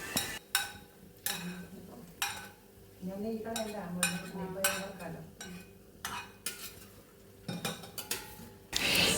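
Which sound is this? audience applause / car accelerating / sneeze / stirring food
stirring food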